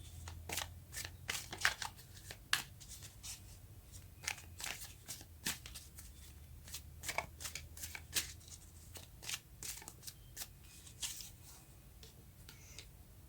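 Tarot cards shuffled and drawn by hand, a run of crisp riffling snaps and flicks in quick irregular bursts, close and fairly quiet over a low steady hum, no talking.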